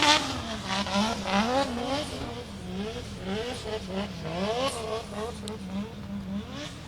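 A drift car at a drift park event revs and shifts under hard throttle, its engine note rising and falling in rapid bursts, with tire noise and a faint commentator voice underneath.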